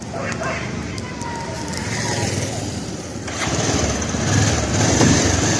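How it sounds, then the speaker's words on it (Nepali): A motorcycle starts on a busy street at Birendra Chowk in Tulsipur bazaar during the Tihar festival; a steady engine rumble mixes with broad traffic and crowd noise that grows louder partway through. "म चाहिँ बाइक स्टार्ट गर्छु है।"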